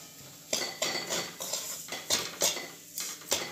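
A metal spoon breaks up lumps of moong dal halwa in a pan, making a steady series of about ten close, crisp clinks and scrapes against the metal, with no voices.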